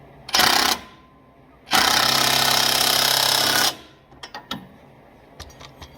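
A power tool drives a nut onto a Teraflex brake anchor on a vehicle axle, with a short loud impact-style burst, a pause, then a longer two-second rattling run, followed by light clicks and handling sounds.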